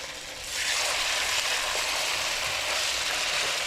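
Pork chops hit hot oil in a stovetop pan and burst into a loud, steady sizzle that holds constant, close up and without talking.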